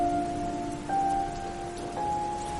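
Heavy rain in a Hindi horror cartoon on a stormy night, a steady wash of falling rain with faint tonal hum beneath, continuous and moderately quiet with no voices.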